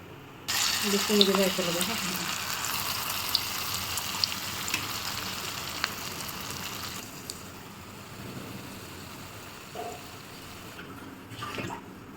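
Vegetable Manchurian balls of shredded cabbage sizzle and crackle steadily in hot oil, a close, continuous frying hiss with faint clinks, fading quieter toward the end.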